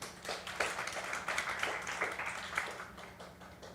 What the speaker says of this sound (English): let's give Dr. Go a big applause and a big smile online